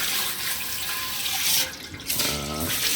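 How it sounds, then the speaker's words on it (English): Tap water runs steadily into a sink while a deer skull with antlers is rinsed, with a brief break and some splashing changes partway through; no one speaks. "Give it a bit of a rinse over the back."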